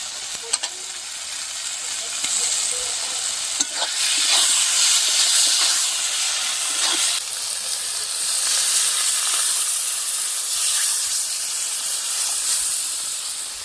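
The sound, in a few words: fish added to hot oil and spice paste, sizzling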